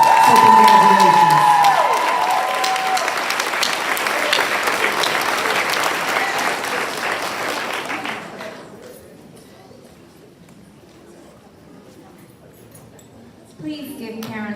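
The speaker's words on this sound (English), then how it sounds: "Please give Carolyn another round of applause." Loud audience applause with some cheering fills a high school senior awards ceremony at Polk State College, steady for about eight seconds before fading into quiet room tone, with a brief rise near the end.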